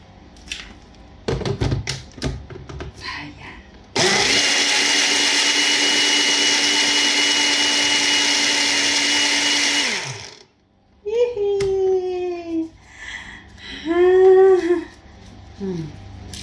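A blender whirs loud and steady for about six seconds while blending sweet melon for fresh juice, then winds down abruptly. Voices talk before and after the motor runs.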